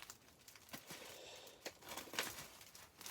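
Cardboard and plastic packaging of an iPhone 8 box crinkles and crackles as it is cut open, with a few soft irregular snips and rustles close by and faint.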